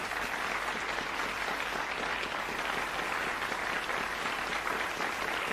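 A studio audience at a TV quiz show applauds a new champion, a dense, steady wash of clapping that holds evenly for several seconds at moderate distance, with no talk over it.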